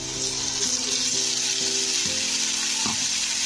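Ground spice paste frying with potatoes in a pan, a strong steady sizzle with light stirring scrapes, nothing spoken.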